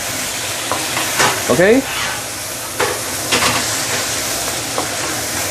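Okra stir-frying with sambal in a hot pan gives a steady, close sizzle and hiss, with a few scraping stirs and a brief spoken word over it.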